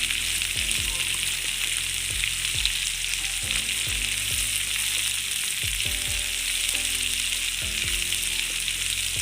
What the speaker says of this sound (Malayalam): ഇളക്കി കൊടുക്കാം ആവശ്യത്തിന് നന്നായിട്ട് വാടിയ മാത്രം മതി